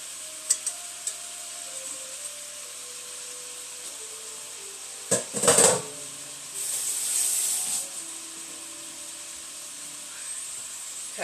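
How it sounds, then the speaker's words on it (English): Spinach being stirred in a pan with butter and garlic: soft scraping and rubbing strokes with a brief louder burst of movement and light sizzle, close and fairly quiet, no talking. "I'm going to stir this spinach around with this butter and garlic"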